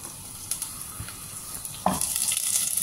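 Garlic frying in a pan, a low steady sizzle with a few scrapes and clinks of stirring, growing louder near the end.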